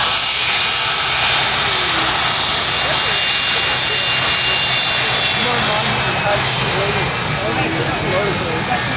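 Jet engines of a C-17 Globemaster III at an air show, a loud continuous roar with broad hiss and a steady whine, holding constant for nine seconds.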